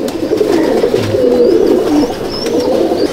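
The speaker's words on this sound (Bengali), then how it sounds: "পিওর চেন্নাইয়ের পায়রা, একদম পিওর ম্যাডাসি পায়রা" Madrasi pigeons from Chennai coo close by in a loft, several overlapping low throaty calls rolling on continuously and loudly.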